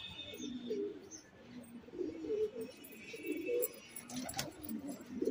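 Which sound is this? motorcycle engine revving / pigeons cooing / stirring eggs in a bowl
pigeons cooing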